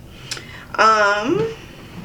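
One loud, close sneeze bursts out with a sharp intake and a voiced, falling release, then quiet room tone.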